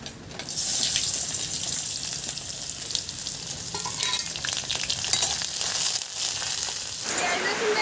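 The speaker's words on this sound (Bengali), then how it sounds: "এবার পেঁয়াজ আর রসুনটা ভেজে নেব" Onion and garlic frying in oil, after chillies, for a jackfruit-seed mash: a steady, close broadband sizzle with stirring clatter that carries on throughout, briefly dipping near the end.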